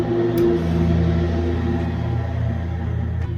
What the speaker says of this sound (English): The lawnmower man's here and he is lawn mowing